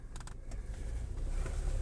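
An Audi A6 C7 2.0 Quattro with automatic transmission pulls away: a low, steady engine and road rumble builds gradually, with a few light clicks at the start and no talk.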